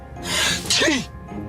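A single loud, sharp sneeze bursts out close by, a breathy rush followed by a quick vocal snap, then quiet room tone.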